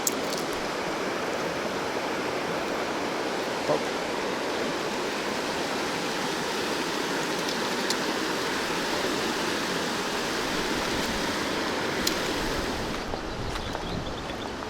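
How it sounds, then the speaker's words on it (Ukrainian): A Carpathian mountain trout stream, running slightly high, rushes continuously with a steady, broadband wash of water noise, unchanging throughout and with no voices. "Річечка шумить, річечка трошки піднята"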